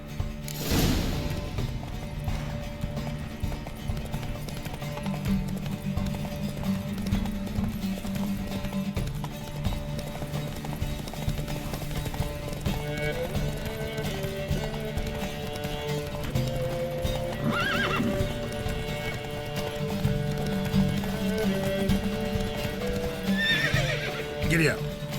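Horses galloping in a race in the video game The Witcher 3: Wild Hunt, with quick hoofbeats, neighing and background music, and voices talking over it.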